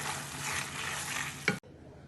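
A spoonful of mustard is stirred into a pan of sizzling pork shoulder chops with mushrooms. A steady close fry and scraping hiss ends in a sharp clack, then quieter sizzling.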